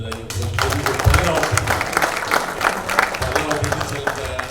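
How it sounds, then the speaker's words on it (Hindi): An audience at a Bhojpuri OTT platform launch event claps and applauds in a dense, sustained burst. The crowd noise is mixed with chatter and a voice speaking over it. "आप लोग जोरदार ताली बजाइए"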